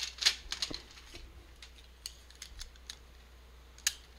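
Adhesive tape pulled from a roll and pressed onto a junk journal cover, heard as sharp ripping bursts near the start, then scattered faint taps and small crackles, ending with one more quick tearing sound.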